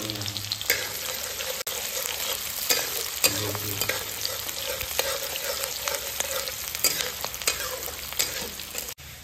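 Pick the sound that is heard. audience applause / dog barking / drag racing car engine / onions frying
onions frying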